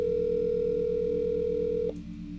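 A telephone line hums with a steady dial tone while a call is being placed, then the tone cuts off abruptly near the end, leaving a low background hum.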